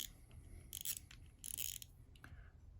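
The drag knob of a spinning fishing reel is turned, giving two short bursts of quiet mechanical clicking and a few softer ticks, close up against a low background.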